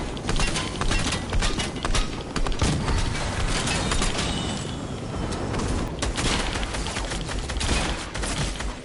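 Dense, continuous gunfire in a shooter game, rapid overlapping shots crackling loudly throughout with a brief lull midway before the firing resumes.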